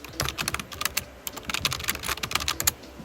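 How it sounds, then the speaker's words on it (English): Fast, continuous clattering of computer keyboard keys, close and fairly loud, with dense irregular keystrokes and no speech over them. "Hope you like the twittity-twat of the keyboard."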